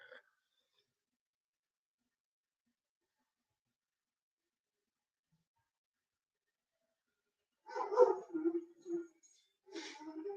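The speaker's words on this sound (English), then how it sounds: "so don't mind the barking" Dog barks and yips from a pit bull come in a short cluster near the end, moderately close, after a long stretch of silence.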